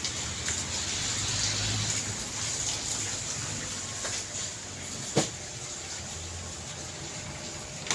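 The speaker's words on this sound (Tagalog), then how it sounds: "ang lakas ng hangin. Ulan. Lakas ang hangin." Strong wind and heavy rain make a steady, dense rushing hiss throughout, with one brief sharp knock near the end and no clear voices.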